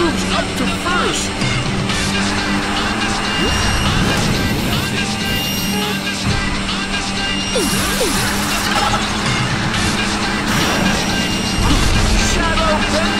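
In the Sonic & SEGA All Stars Racing game, a car crashes with metallic smashing under a constant wall of racing engine noise and game sound effects, with an energetic voice talking over it.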